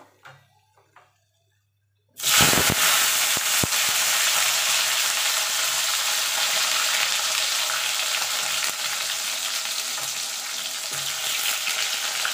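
Flat beans and potatoes fry in hot oil. A quiet stretch with faint sounds is suddenly cut off by a loud burst of sizzling that settles into a steady, close, crackling fry, with a couple of sharp knocks near the start.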